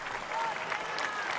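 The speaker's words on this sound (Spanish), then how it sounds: "El aplauso." Dense audience applause fills a brief stretch at a ceremony conferring an honorary doctorate at the Universidad Nacional del Nordeste, steady and fairly close, with faint whistles or cheers threaded through.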